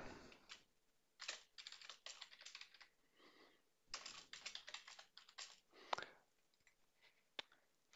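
Quick bursts of typing on a computer keyboard as a folder name is entered, close and fairly quiet, with short pauses between clusters of keystrokes and no speech.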